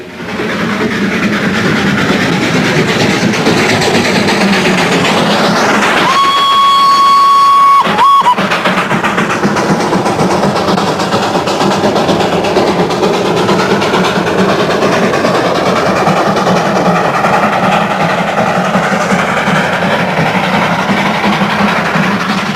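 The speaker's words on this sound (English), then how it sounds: "This is what the true railway buffs all wait for, the famous Darjeeling Himalaya Railway" The Darjeeling Himalayan Railway's 2-foot-gauge toy train climbs mountain gradients with a loud continuous rumble and clatter, a sustained steam whistle blowing for about two seconds partway through.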